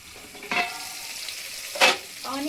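Onions sauté in a pan for Telangana bagara rice, a soft, low sizzle broken by two brief, brighter bursts of stirring or scraping.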